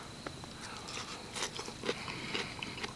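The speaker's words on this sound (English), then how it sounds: "Still got some crunch to them." Crunchy green peppers cooked at a campfire are chewed close up, giving a run of crisp, irregular bites and crackling crunches over quiet outdoor background noise, with no one speaking.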